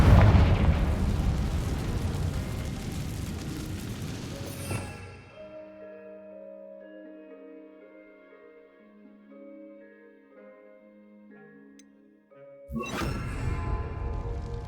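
Confringo fire spell in Hogwarts Legacy bursting in a loud, rumbling explosion, fading into a tonal magical shimmer before a second blast erupts near the end.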